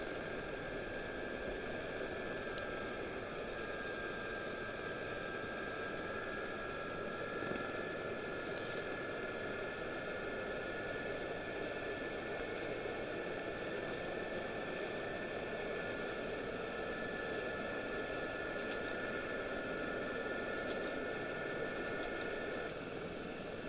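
Steady droning helicopter engine hum of an SA342L Gazelle in a video game, with a high-pitched whine, continuous and even throughout, no voices.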